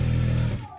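A sewing machine running steadily while stitching a garment hem about an inch deep, a close, continuous mechanical whir that winds down and stops near the end.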